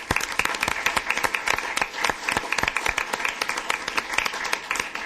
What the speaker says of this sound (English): Well, let's give them a round of applause.